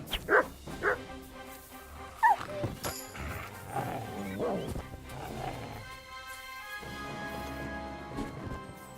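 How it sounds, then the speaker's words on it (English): A wolf in Kingdom Come Deliverance 2 gives several sharp barks and yips, loudest near the start and again a couple of seconds later, over a steady game ambience with soft rain and tonal music. "Oh wait, that's not my dog. That's a wolf."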